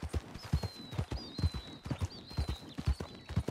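Horse hooves clip-clop at a steady walking rhythm in the Red Dead Online (RedM) video game, with a faint whistling tone drifting above the hoofbeats.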